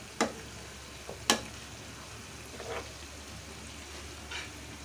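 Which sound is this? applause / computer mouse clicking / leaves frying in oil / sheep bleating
leaves frying in oil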